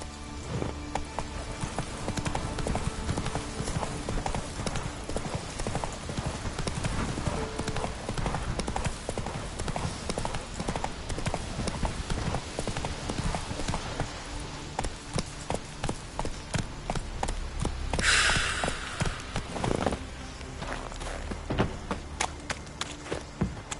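Roach the horse gallops through The Witcher 3, hooves clip-clopping in a quick, steady rhythm that stays close and fairly loud, with a brief burst of other noise partway through.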